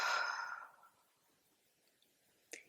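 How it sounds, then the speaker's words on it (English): A single slow, airy exhale during a guided breathing exercise fades out over about a second, followed by near silence and a small click. "breathing out."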